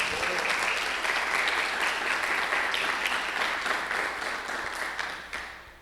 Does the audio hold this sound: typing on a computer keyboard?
no